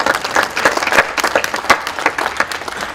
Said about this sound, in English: Now, everybody, I think that deserves a little round of applause in itself.